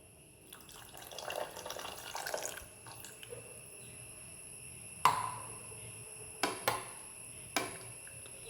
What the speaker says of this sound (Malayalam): ഇനി നമ്മൾ ചാരിച്ച പുളി വെള്ളം നമുക്കിതിലേക്ക് ഒഴിച്ചു കൊടുക്കാം